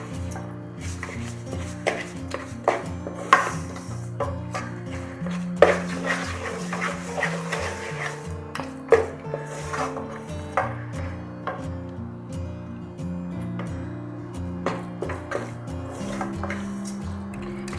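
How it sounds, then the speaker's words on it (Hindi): Bread halwa with sugar is stirred in a pan, giving scattered spoon clinks and scrapes against the metal over steady background music. "इसको अच्छे तरीके से हिला लें ताकि नीचे ना लगे"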